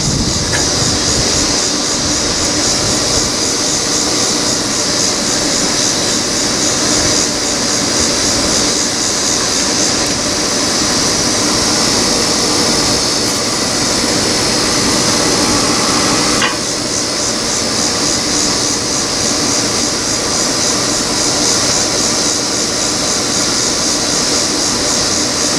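A Pit Boss Whiskey Still pellet smoker runs its prime cycle, with the auger and fan giving a steady, loud, unbroken whir and roar for the whole stretch.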